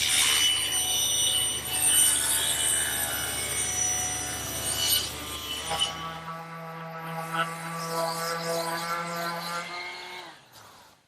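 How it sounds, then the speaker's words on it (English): Power saw ripping wooden rails for a bedside table, a loud steady whine with cutting noise that cuts off partway through, then the blade spins down in a falling tone before fading out. "I'm going to use this piece to rip 2 1 1/4 inch rails for the front of the table."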